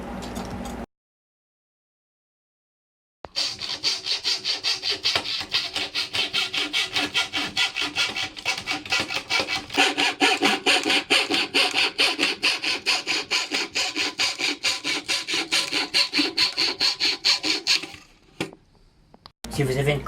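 A hand saw cuts through a wooden batten or panel, using a guide. After a moment of silence come rapid, even back-and-forth strokes, close and steady for about fifteen seconds before stopping.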